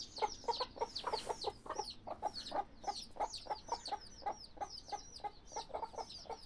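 Backyard chickens, a rooster and hens, cluck in a quick, busy series of short calls, fairly close and continuous over several seconds with no talking.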